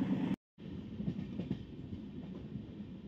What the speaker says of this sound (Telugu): ట్రైన్ అయితే వచ్చింది,